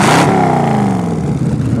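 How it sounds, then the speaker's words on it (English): A 1957 Austin Healey with a 289 V8 revs once, the engine note starting in a loud burst and then slowly falling as it settles, close and with no one talking. "Why don't you flip the throttle a couple times?"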